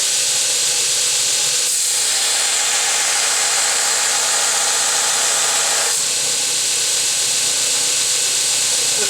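A DSM belt grinder with a 1hp motor grinds a metal bar about 1 inch wide and 5/8 inch thick, producing a loud steady abrasive hiss that continues without a break and has slight changes in pressure.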